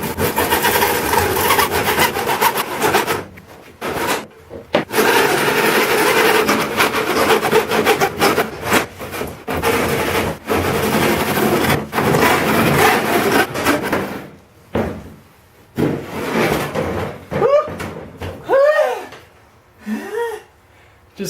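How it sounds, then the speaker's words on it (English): PVC pipe for a potato cannon is cut with a hand saw in rapid, rhythmic back-and-forth rasping strokes. The sawing is loud and close, with short pauses. Near the end a voice briefly cuts in. "I'm going to cut this thing though."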